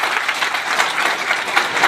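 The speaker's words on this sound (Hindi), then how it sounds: "एक बार जोरदार ताली बजाइएगा।" An audience at an indoor sales presentation breaks into steady, loud applause, a dense wash of clapping that holds evenly for a couple of seconds with no speech over it.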